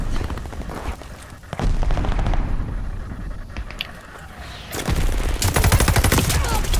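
A video game battle with a mortar barrage and gunfire: dense, loud bursts of rapid shots and booms come in waves, with a quieter stretch in the middle before heavy fire returns.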